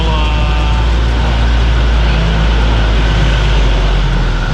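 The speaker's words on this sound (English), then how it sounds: "Let's wait for this noisy car." Noisy car passing on a road in a rural Northern Territory town, a loud, close, steady engine and road roar with heavy low rumble that holds throughout.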